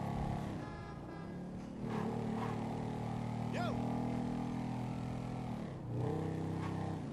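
Motorcycle engine droning and revving during a wheelie in GTA 5, a sustained mid-pitched whine that dips and rises again, with a voice talking over it.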